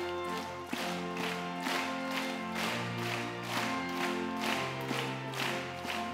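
A church congregation at a Korean prayer meeting claps in steady unison to a praise song. Sharp, even beats land about twice a second over sustained singing voices and accompaniment.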